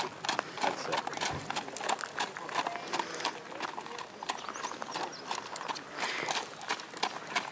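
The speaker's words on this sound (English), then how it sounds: "So this horse rides and drives." Horse hooves clip-clop at a steady walking rhythm, close by, with many evenly spaced hoof strikes against quiet outdoor background.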